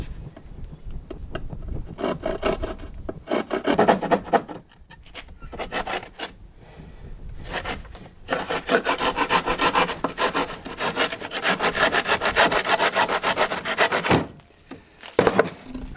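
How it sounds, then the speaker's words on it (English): A small handsaw cuts by hand in runs of fast rasping back-and-forth strokes, close and loud, broken by brief pauses, with no talk. "And I've got a little handsaw. More hand cutting."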